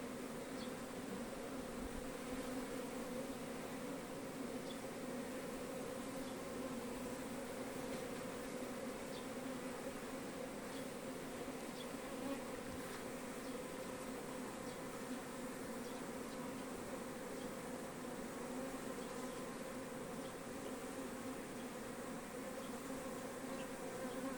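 Bees drone in a continuous, even buzz near a hive, a dense swarm-like hum that stays steady and moderately close for the whole stretch.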